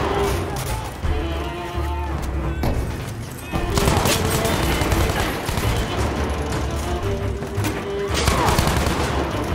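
Rapid gunfire bursts from the Battlefield 5 video game fill the span, loud and dense, with fusillade-like volleys, booms and game music or effects underneath and no pause between shots.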